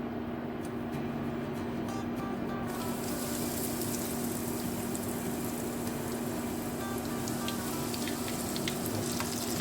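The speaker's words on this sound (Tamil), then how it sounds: "இது வந்து நம்ம கொஞ்சமாக சேர்த்து ஃப்ரை பண்ணிக்கலாம்." Corn kernels deep frying in hot oil for crispy corn, a loud, dense, continuous sizzle with crackling pops that swells after the first few seconds, close by, with a steady hum underneath and no talk.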